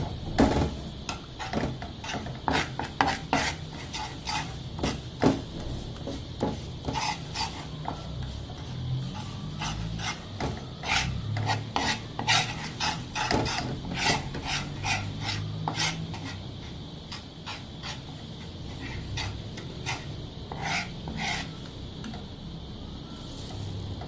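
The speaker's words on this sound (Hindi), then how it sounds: "1 चम्मच मैदा जो है वो इसमें डाल के इसको भूनेंगे" Plain flour roasting in ghee in a pan for white sauce while being stirred continuously, a close, steady run of rapid scraping and rasping strokes against the pan with a soft sizzle underneath and no talking.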